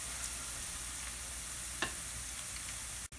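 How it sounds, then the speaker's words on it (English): Onions and garlic sautéing in a pan on a stovetop flame, a steady soft sizzle with a faint crackle or two, close and continuous. "saute that up a little bit until they just start to get a little brown, the onions and the garlic"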